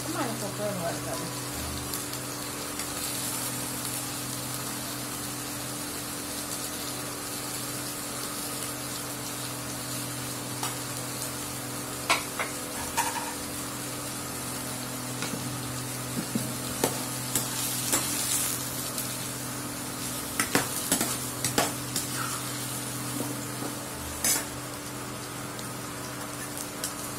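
Cucumber pieces frying in a pan for chutney, a steady close sizzle with occasional stirring clicks and scrapes running throughout, without speech.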